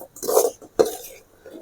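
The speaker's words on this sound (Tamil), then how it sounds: "கொஞ்சம் கொஞ்சமாக அரிசி மாவு போட்டு அப்படியே கிளறி விடுங்க." Rice flour being stirred into a coconut candy mixture in a pan, two close scraping strokes of a spoon against the metal with a light clink, no talk.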